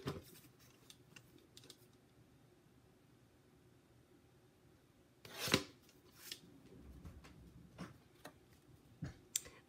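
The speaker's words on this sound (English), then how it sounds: "I'm gonna cut it from right here and cut off maybe a 16th of an inch and then do that all the way around" Scissors trim a thin edge off cardstock for a handmade card, giving quiet, sparse snips and paper rustles with a louder burst of cutting midway and scattered crisp clicks near the end.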